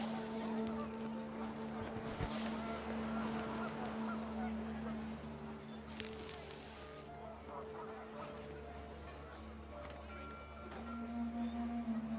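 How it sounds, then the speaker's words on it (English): Panicked geese honking in the game What Remains of Edith Finch, repeated nasal honks over rising wind, several calls at once fairly near, with a voice talking over part of it. "The wind picked up, and panicked geese appeared and quickly went."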